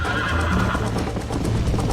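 A horse in the video game Red Dead Redemption on Xbox One X gives a loud, sustained whinny that fills the moment, with faint hoof-like movement beneath and no talking.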